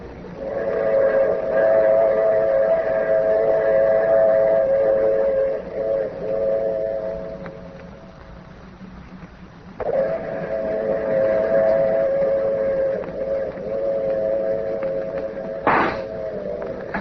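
A train idles at an empty station platform in a radio drama with a steady rumbling hum, then a short sharp whistle blast near the end, with voices talking over it.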